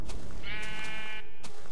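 A sheep in Minecraft bleats once in a clear, wavering cry lasting about a second, close and loud above a low, steady game background.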